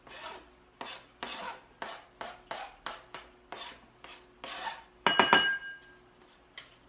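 Breakfast ingredients are stirred in a bowl with a utensil, about a dozen evenly spaced scraping strokes against the glass, followed by a brighter burst of clinking and a final tap, all close and without talk.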